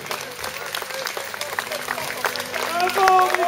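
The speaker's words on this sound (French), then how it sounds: "Applaudissez tout particulièrement messieurs Franck de Bresse" Applause from an audience at a medieval tournament, steady clapping throughout with a crowd murmur, swelling a little louder toward the end.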